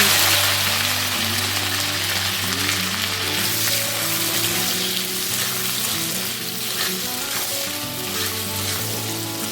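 Onion, capsicum and green chili fry in a pan with a loud, steady sizzle that continues unbroken throughout, accompanied by a low background hum.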